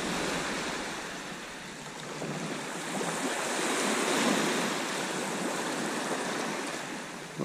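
Ocean waves break on a sandbar along the coast between Walcott and Cart Gap, a steady, loud wash of surf that swells and fades without a pause, mixed with some wind rumble on the microphone.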